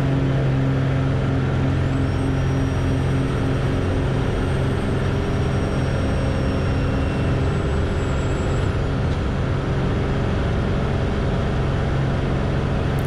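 A light aircraft's piston engine runs at near full power just after takeoff, a dense, steady droning roar with constant low hum heard from inside the cabin throughout.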